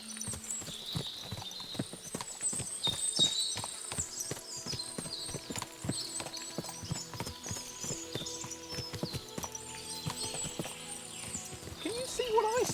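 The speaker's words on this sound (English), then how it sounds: "What a lot of horses!" Horses clip-clop along on hooves in Kingdom Come: Deliverance II, a continuous irregular patter of steps close by, with birdsong and brief voices woven through the scene.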